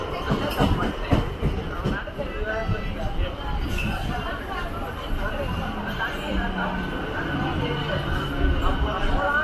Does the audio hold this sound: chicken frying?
no